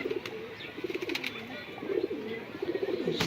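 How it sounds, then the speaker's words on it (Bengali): Pet pigeons coo softly nearby, with low, throaty, repeated phrases from several birds overlapping above a faint background hiss. "এখানে আমার কবুতরগুলো"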